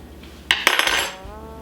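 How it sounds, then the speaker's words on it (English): A spoon drops onto a kitchen surface, giving two close, bright metallic clinks followed by a short rattle as it settles, loud and alone. "Drop the spoon"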